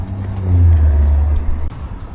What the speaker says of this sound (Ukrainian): Ну що, ось і наш таксі під'їхав.